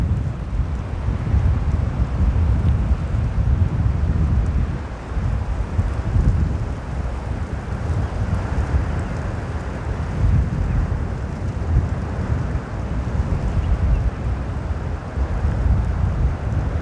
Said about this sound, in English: bit of a wind blowing yet.